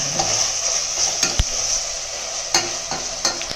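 Tomatoes are stirred and fried in a pan for vegetable biryani, giving a steady hiss of sizzling oil with several spoon scrapes and taps against the pan, close and alone.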